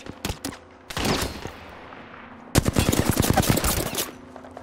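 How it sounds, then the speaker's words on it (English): Rapid bursts of video game gunfire, loud and close, arrive in clusters: a short rattle, a sustained spray, a brief lull, then a longer dense volley of automatic shots. "Getting shot at."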